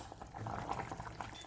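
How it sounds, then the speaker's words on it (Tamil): Moong sprout curry with salt boiling in a pot in a Chettinad kitchen: a faint, steady bubbling and simmering with soft liquid pops, alone with no talk. "உப்பு சேர்த்து ஒரு கொதி கொதிக்க விடணும்"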